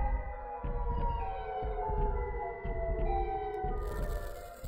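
Siren Head monster in a video game lets out a long, loud wavering siren wail, sustained tones layered with low rumbling throughout, with no talking.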